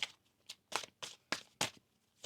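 Oracle cards shuffled by hand in a deck, giving about seven quick papery riffling swishes in an irregular rhythm, close and fairly quiet, with no talking.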